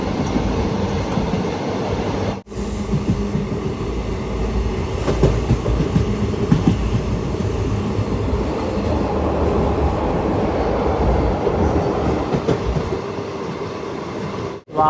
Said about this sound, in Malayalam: മഴയത്ത് ട്രെയിൻ യാത്ര അടിപൊളി തന്നെയാണ്.